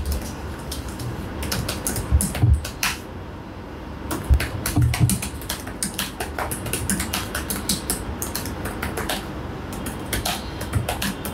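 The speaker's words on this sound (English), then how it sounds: "Let's see how is the typing experience." Typing on the keyboard of an ASUS ROG Zephyrus G15 gaming laptop with a Ryzen 9 5900HX, a quick run of soft, muted keystrokes with brief pauses, close up and heard alone.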